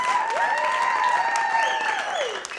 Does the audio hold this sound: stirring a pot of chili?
no